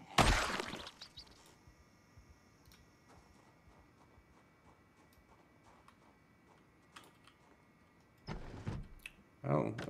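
Glass shattering in Project Zomboid as a window of the police station is broken in, a loud crash at the start followed by quiet ticking, then more bursts of breaking near the end.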